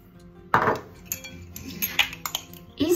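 Potatoes with oil, salt, pepper, oregano, basil, dried garlic and a spice mix are stirred in a dish, giving a few clinks and scrapes of utensil on dish with quiet gaps between them.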